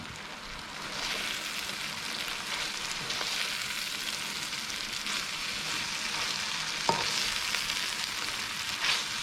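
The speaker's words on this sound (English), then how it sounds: "I'm going to get my kale, toss it in." Kale greens frying and stirred in a pan for African greens served with ugali, a steady broad sizzle with soft stirring scrapes and one sharper tap, close and continuous with no talk.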